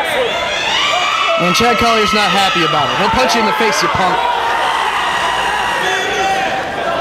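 A wrestling crowd in Chicago roars and cheers for hometown wrestler Ace Steele, loud and sustained with whoops and shouts rising and falling, while a commentator talks over the noise throughout.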